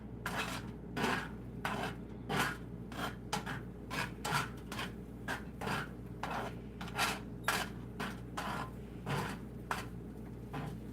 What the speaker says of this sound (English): I gotta get a different spoon because that metal sound is driving me crazy